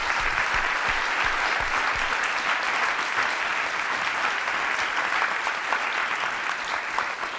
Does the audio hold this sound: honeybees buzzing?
no